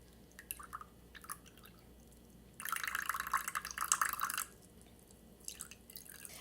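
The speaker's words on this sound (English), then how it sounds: "simply pour my 60 grams of water into the center of this well" Ice water is poured into a well of flour for egg tart dough in a quiet kitchen: a brief, bright trickling pour of about two seconds between a few soft drips and taps.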